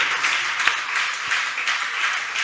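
A church congregation claps loudly in praise to Christ, a thick, sustained wave of applause with a few sharper individual claps, steady throughout.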